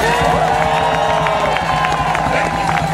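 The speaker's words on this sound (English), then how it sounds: "let's give them a round of applause, guys" Crowd at a Wisconsin protest rally cheering and applauding steadily for firefighters, a dense, loud wash of clapping and shouts mixed with crowd noise throughout.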